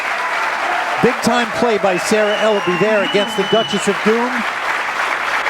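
Crowd in East Peoria applauding a pool shot at a Midwest Classic quarter-final match, steady loud clapping running beneath a commentator talking throughout.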